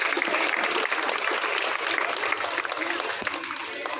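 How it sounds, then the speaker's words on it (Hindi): Sustained applause from a large audience at a school event sounds as dense, steady clapping throughout, fairly loud and continuous without breaks. "एक बार जोरदार तालियां अजय सर के लिए"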